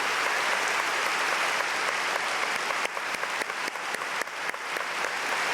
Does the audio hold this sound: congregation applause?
yes